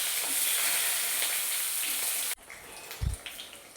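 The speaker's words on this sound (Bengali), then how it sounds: "পটলটা আমি ভালো করে এর মধ্যে ভেজে নেব।" Pointed gourd fries in oil with panch phoron, a loud, close, hissing sizzle for over two seconds that stops suddenly, followed by a quieter stretch with a soft thump and faint spatter.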